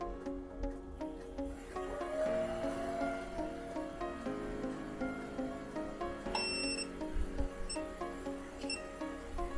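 A WEISAN RC210E8 lathe controller gives a short, high electronic beep partway through, over a steady hum of running machinery during automatic external thread cutting.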